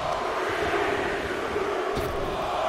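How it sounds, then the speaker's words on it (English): An arena crowd in the wrestling video game WWE 2K23 chants in unison during a Royal Rumble match, a dense steady roar that fills the whole stretch at even loudness. "Listen to this crowd count the next one in."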